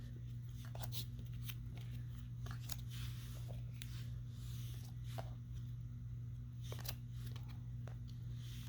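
Sleeved sports cards of Pete Rose and Barry Bonds being handled and flipped through, a quiet run of soft plastic slaps and slides at an irregular pace, over a low steady hum.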